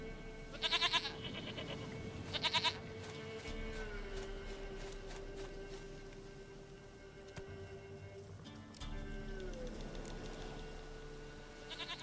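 A goat in The Witcher 3 lets out two short, bright bleats close together near the start, then falls quiet over steady in-game ambience and background music.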